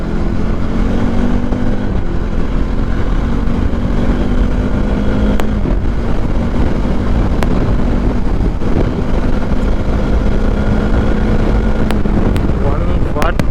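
A Bajaj Dominar 400 motorcycle rides at high speed on an open road, its engine droning steadily under heavy wind rush, with a voice talking over it.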